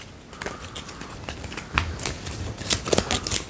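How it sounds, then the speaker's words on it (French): A deck of playing cards is shuffled from a card game, with a run of crisp riffling snaps and flicks in uneven bursts close by. "Donc là, il me refait mélanger mon deck."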